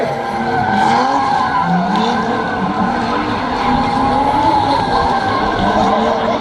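A Nissan Skyline R33 drifts at a Romexpo drift show, its tires skidding and squealing loudly and continuously over a roaring, revving engine for the whole stretch, close and dense.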